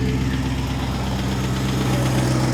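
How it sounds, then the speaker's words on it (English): A 1969 Ford Mustang Mach 1 idles steadily up close, its engine with heavy lifter chatter and an exhaust leak, a constant rumble carrying a rapid ticking clatter throughout with no voices. "we still have some serious lifter chatter. Ignoring that. Exhaust leak is not gone."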